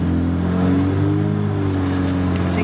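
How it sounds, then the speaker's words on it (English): A 1967 Mini Cooper S engine with a sticky throttle revs steadily and loudly up close, its harmonic drone rising and falling slightly through the whole stretch with no talk over it. "This is our sticky throttle."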